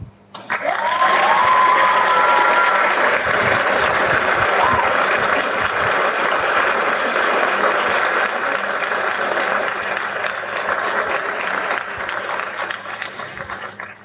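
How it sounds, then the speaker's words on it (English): Audience applause and cheering at a public gathering, a loud sustained wash of clapping and crowd noise with brief shouts near the start, holding steady for about fourteen seconds. "Give her a round of applause"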